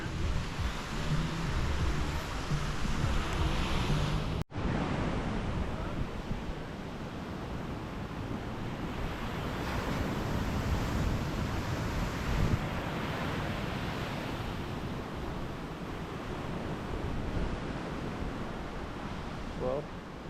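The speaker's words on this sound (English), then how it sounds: "So, here's the secret beach." Ocean surf at a secluded beach in Costa Rica, a steady broadband wash of waves with wind buffeting the microphone, continuous and fairly loud from start to finish, with a brief dropout early on.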